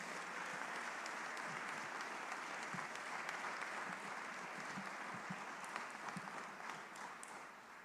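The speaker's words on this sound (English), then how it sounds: "Can you please give Lily and all these beautiful children a big round of applause?" Steady applause from a gathered crowd at a children's nutrition policy rally, sustained clapping filling the whole stretch at an even level with scattered sharper claps, without talk.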